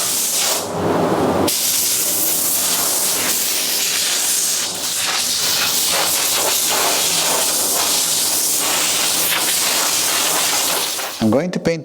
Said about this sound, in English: going to paint the wood with a spray gun